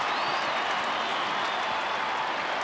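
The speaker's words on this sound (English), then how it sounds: "And the crowd just about lifts the roof off the stadium" Stadium crowd roaring at a 1998 AFL football match between Carlton and Adelaide, a dense, sustained wall of cheering and applause that stays loud and steady throughout.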